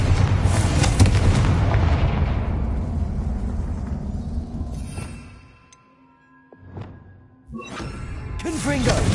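Confringo blasting spell explosions in Hogwarts Legacy, a loud booming blast that rumbles and fades over several seconds, then two sharper bangs, with a near-silent gap between them.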